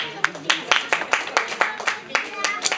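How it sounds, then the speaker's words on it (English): People clap their hands in a quick, fairly even run of a dozen or so sharp claps over about three seconds, close and clear, with no other sound competing. "They're like clapping their hands and everything."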